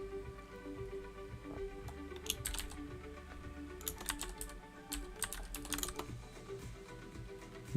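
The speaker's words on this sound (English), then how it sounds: "Good old mechanical keys, man." Clicky typing on a mechanical computer keyboard, steady close keystrokes with scattered sharper clacks, heard alone with no talk.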